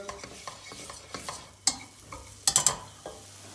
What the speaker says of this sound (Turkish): Naneyi de ortalama 20 saniye kadar bir kavurdum salçayla beraber.